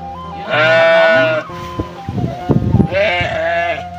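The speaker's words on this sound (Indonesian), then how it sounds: "Katanya si Teteh Lalanya mau cari rumput sahabat nih buat kambing-kambingnya di belakang sahabat." Goats kept behind a rural village house bleat loudly twice, long wavering calls separated by a short pause with some faint rustling and handling noise between them.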